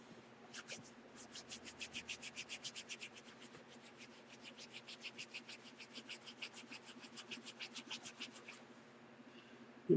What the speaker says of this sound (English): Give it a good little rub there.